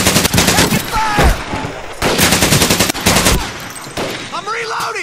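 Bursts of machine gun fire in the Pacific war game Medal of Honor Pacific Assault, set on Makin Atoll, with rapid close rattling volleys repeating across the clip, a whistling ricochet-like sweep near the end, loud and dense.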